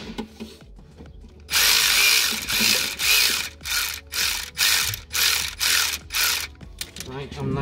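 Ratchet tightening bolts on the vacuum pump of a 2008 VW Beetle 2.5L, loud rapid clicking in about eight short bursts separated by brief pauses, close up.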